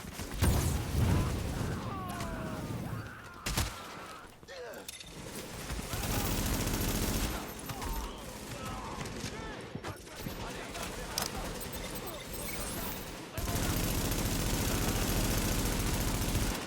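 Gunfire from the video game The Division during cooperative side missions comes in repeated rattling bursts and single cracks over a busy in-game soundscape, with occasional voices mixed in.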